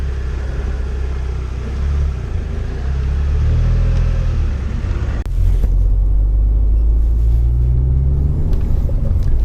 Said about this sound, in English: let's go and have a drive of the Mark 6 Volkswagen Golf R.